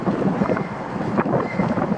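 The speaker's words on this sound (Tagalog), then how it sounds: "Mahangin ba? Mahangin." Wind buffets the microphone outdoors, probably near the water in Brisbane, making a steady, rumbling roar with gusty swells and no speech.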